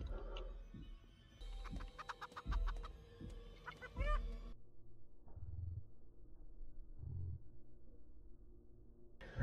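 A chicken clucking in a video game, heard as a run of sharp clucks and squawks mixed with thuds and scuffling, then quieter low rumbling and knocks.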